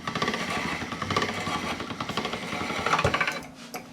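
Tomato pasta dough is fed through a hand-cranked pasta machine, giving a close, steady run of rapid rhythmic clicks and rattling from the rollers over about four seconds before it stops.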